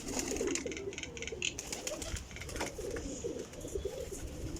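Soft, repeated cooing of flying pigeons in Jhelum at moderate distance, overlapping calls with a faint background murmur and occasional rustling.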